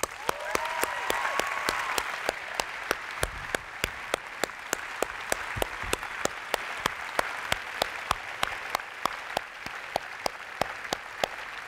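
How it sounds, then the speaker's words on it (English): A chapel audience applauds the camera operators seated at the front, a steady, dense wash of clapping that holds for the whole stretch with no voices above it. "Would you please give them a round of applause?"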